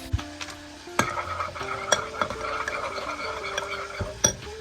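A spoon stirs mayonnaise and sriracha together in a bowl, giving soft wet churning with irregular scrapes and a few sharp clinks against the bowl's side, close up and with no talking.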